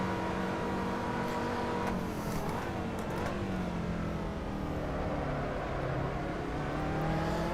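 Caterham 2-Eleven race car engine lapping Silverstone in Assetto Corsa, a continuous buzzing engine note that rises and falls through gear changes and revs, loud and close with no talking.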